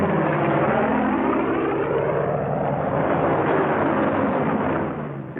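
Military fighter planes approach low to land in formation, a loud steady propeller-engine roar that holds throughout and eases slightly at the very end.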